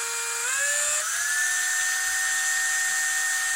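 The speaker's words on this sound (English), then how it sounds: "now we're gonna drill a few pilot holes" A small power drill spins up with a rising whine, then holds a steady high-pitched buzz while boring a pilot hole in a plastic food container, loud and close with no talking.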